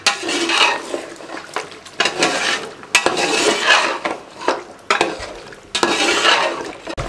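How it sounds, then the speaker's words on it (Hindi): A spoon stirs yogurt, black pepper and spices in a metal pot for beef paya, making repeated loud scraping and clinking strokes in an uneven rhythm, close up, with no speech. "अच्छे तरीके से मिक्स कर दें और दही का पानी खुश्क होने दें इसका"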